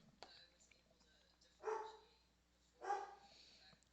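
Pet dogs barking indoors in a home, two separate muffled barks about a second apart, faint and in the background.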